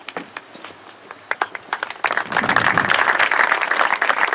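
Audience applause for an award winner at the Nassiriya international peace prize ceremony, starting with scattered claps and swelling into dense, sustained clapping from a sizable crowd.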